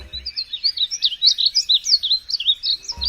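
Bright yellow-green songbirds sing a continuous, lively warbling song of rapid twittering notes, close and clear, with no other sounds.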